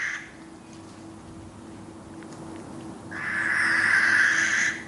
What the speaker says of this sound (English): Very noisy birds. It's a sort of shriek, isn't it?